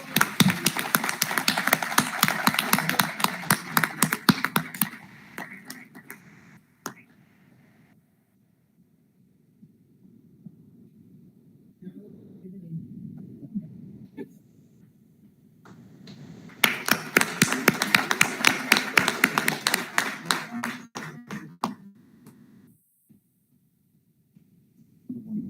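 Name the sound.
audience applause for the runners-up at the port conclave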